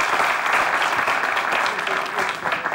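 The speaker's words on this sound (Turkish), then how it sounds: "Gerçekten bir alkış da Hamza'ya gelsin." Audience applause for Hamza on a Turkish comedy sketch show, a loud, steady wash of many hands clapping that holds without a break from start to finish.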